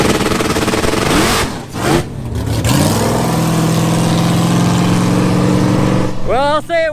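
6th-generation COPO Camaro engine revving: a loud, near engine surges through two sharp blips, then holds a high, steady roar before dropping off, with a voice speaking briefly at the end.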